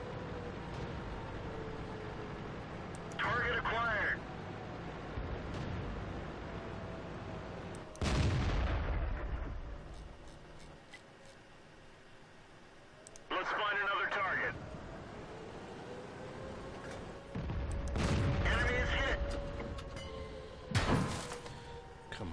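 Tank cannon shots in World of Tanks, a Comet among the armor, come as several loud broadband blasts with rumbling tails at irregular intervals, mixed with radio-style crew callouts and game effects.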